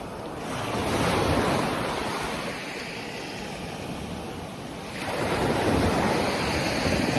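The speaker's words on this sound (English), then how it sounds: "with the water, with the sea, with the ocean, with the waves, for their frequencies." Sea waves rolling onto the shore, a broad roaring wash that swells, eases and surges again, mixed with gusty wind buffeting the microphone.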